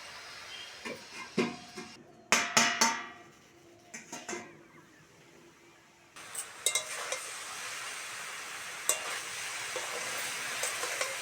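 Khesari greens fry in a pan, with a steady sizzle and repeated scrapes and clinks of a spoon stirring against the metal, loud strokes at first and then a continuous crackle, with no talking.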